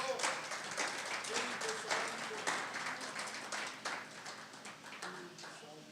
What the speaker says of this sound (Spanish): Dele una ofrenda de palmas en esta tarde